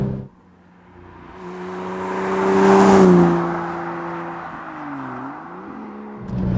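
A Subaru SVX track car with all-wheel drive accelerates out of a bend. Its engine note rises and swells to a loud peak midway, then eases and climbs again in a steady, strained drone.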